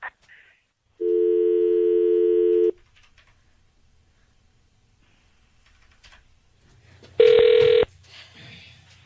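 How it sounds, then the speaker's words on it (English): Phone dialing to call someone back: a steady outgoing tone lasting under two seconds, a quiet pause, then a second shorter tone, clear and loud. "So let's dial him back up."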